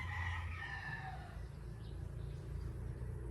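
Chickens at a layer farm, newly arrived ready-to-lay hens, heard as a faint, distant clucking and crowing over a low, continuous background rumble.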